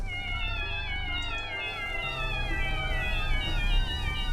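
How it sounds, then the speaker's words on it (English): Cat meows in the video game Fresh Start Cleaning Simulator repeat in quick succession, overlapping into a continuous wavering chorus over a low steady hum. "you can pet the kitty and spam meow sounds"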